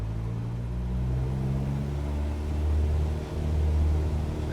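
Cessna 172 light aircraft engine throttling up for takeoff, a steady low droning rumble with strong tonal hum that swells louder toward the end, with no voices.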